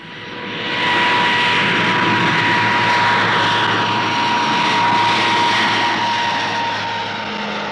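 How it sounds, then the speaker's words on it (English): An Armstrong Whitworth Argosy freighter with Dart turboprops at the 1959 Farnborough air show passes as a loud, sustained engine roar with a steady whine. It swells after the first second and stays strong, with no talk. "Another of 1959's newcomers is the Argosy freighter coach, a new design from Armstrong Whitworth for the rapidly expanding air freight market."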